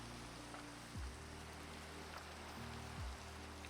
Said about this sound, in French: Alors, il pleut, c'est super.